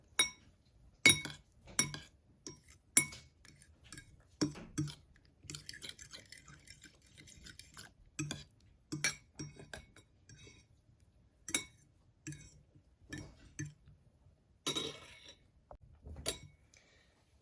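A utensil whisks egg with tomato, onion and salt in a glass bowl, producing quiet, irregular clinks and taps against the glass with soft scraping in between. No one speaks.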